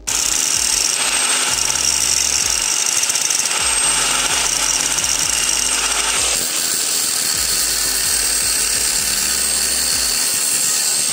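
Continuous loud grinding of a power tool on a copper pin in a Solingen multitool, a steady high whine with shifting pitch, close up and running without pause.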